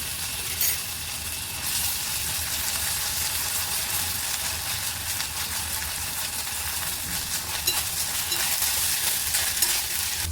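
Ginger, garlic and cumin paste fries in a pan for Kokan-style pithla, giving a steady, close sizzle and hiss with faint stirring scrapes and no voices.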